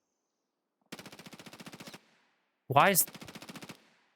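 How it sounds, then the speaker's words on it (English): Two rapid bursts of automatic gunfire crackle in a hardcore-mode VR shooter game, each about a second long, with a voice speaking over the start of the second burst. "that sound like bullets are flying past my head"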